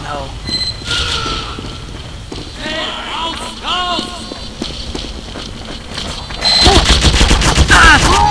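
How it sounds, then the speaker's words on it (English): Sentry turrets fire in Team Fortress 2, with rapid automatic gunfire bursts rattling under game noise and a voice, then swelling into a loud, dense barrage near the end. "I hate the turrets."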